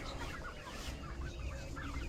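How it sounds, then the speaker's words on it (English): Barred Rock laying hens cluck steadily inside a chicken tractor out on the farm, a close, continuous flock chatter with no talking over it. "These are those barred rock laying hens that we showed you a couple times along the way"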